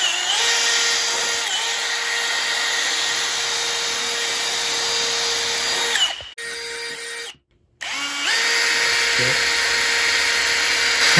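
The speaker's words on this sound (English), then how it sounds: "I am just going to wire wheel it off. Just a simple little wire wheel and a drill." A power drill whines loudly and steadily as a wire wheel grinds against a cast iron exhaust manifold, briefly slowing and stopping before spinning back up.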